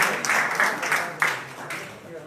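Applause from an audience at a Rajasthan BJP state president's anniversary event, with a few clear claps and a steady background of clapping, mixed with an indistinct crowd murmur.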